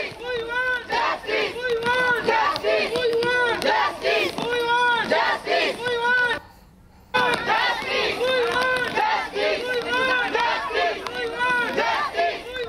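A crowd of protesting lawyers at the CGO complex in Bidhannagar chants loudly and rhythmically in unison, repeated slogan after slogan, with a brief pause near the middle before the chanting resumes.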